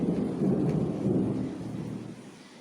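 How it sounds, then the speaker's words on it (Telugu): Steady rain falling in Bangalore, heard from indoors by a window, with a low, rolling rumble underneath, gradually easing off; no talking. "ఇంట్లోకే పడుతున్నాయి చినుకులు"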